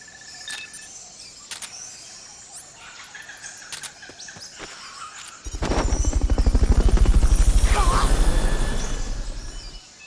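A helicopter's rotor thumps in and swells loudly after several sharp clicks and beeps, its rapid chopping beat filling the second half, during a Fulton recovery in Metal Gear Solid: Peace Walker HD.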